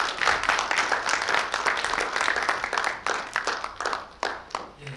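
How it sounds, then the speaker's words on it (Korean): An audience at an international media and information literacy conference claps to welcome a speaker, a dense, steady applause that holds for several seconds and thins toward the end. "예, 박수로 모시겠습니다."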